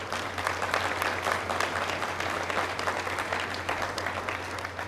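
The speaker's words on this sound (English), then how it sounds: "if you join me in giving them a round of applause" An audience at a senior awards ceremony applauds steadily in a hall, with dense, sustained clapping from many hands and a low hum underneath.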